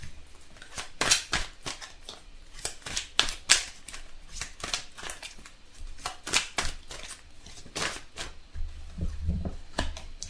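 Tarot cards are shuffled by hand, giving repeated crisp riffling and slapping bursts at an uneven rhythm, close to the microphone with soft rustles between.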